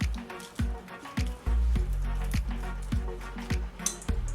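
A knife chops fresh cilantro on a cutting board for a tilapia ceviche, a steady series of close, crisp thuds about every half second with a soft wet crunch.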